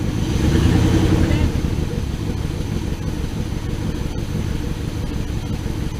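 A truck engine runs steadily at close range, swelling slightly at first as the gas is gently pressed, then holding a low rumbling idle with people talking over it.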